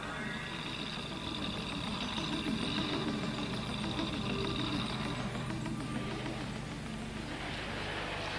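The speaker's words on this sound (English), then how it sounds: "the engine starts, forcing out water that has entered the exhaust" A 1986 Land Rover engine running after wading through water, with water forced out of the exhaust, gives a dense, rough, continuous roar that stays loud and even, with no voices.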